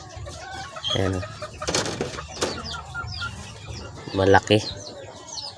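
Chicks and chickens cluck and peep close by in a coop around a rubber feeder trough, with a few louder bursts, while someone talks over them.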